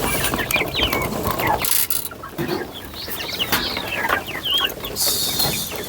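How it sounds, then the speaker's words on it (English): Chickens cluck and call on a farm where poultry are raised alongside cows, vegetables and fruit, a busy, fairly loud mix of overlapping bird calls running throughout with no talk. "I do the chicken rearing at my parents' place, as you can see."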